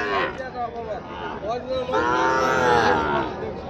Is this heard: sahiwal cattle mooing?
yes